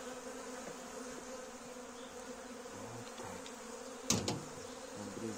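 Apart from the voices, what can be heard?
bees buzzing at a hive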